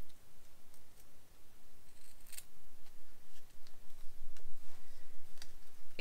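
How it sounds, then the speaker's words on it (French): Scissors snipping paper at a bevel for a photo frame, a series of close, crisp cuts and clicks arriving in quick uneven strokes over a low room rumble, no voices. "Je vais prendre ma paire de ciseaux et là je vais venir couper en biseau comme ceci."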